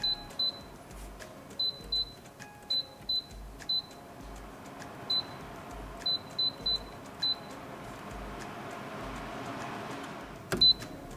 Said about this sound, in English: this is how it sounds like when you toggle the controls.